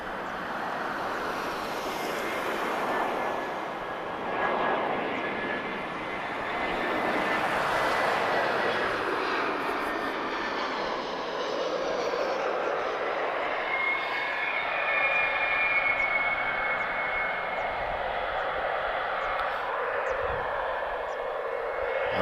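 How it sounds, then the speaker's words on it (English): Airliner jet engines with GE90 turbofans roar at Lisbon Airport, a broad sustained rumble with whining tones that swell and fade at a distance over about twenty seconds. "Let's enjoy the sound of the GE90 engine."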